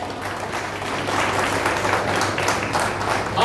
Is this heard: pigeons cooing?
no